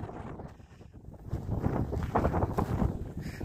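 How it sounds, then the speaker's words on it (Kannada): Strong wind on the Minchukallu Betta hilltop buffets the microphone with loud, gusting low rumbles that swell and build toward the end, no voices heard over it. "ತುಂಬ ಗಾಳಿ ಇದೆ."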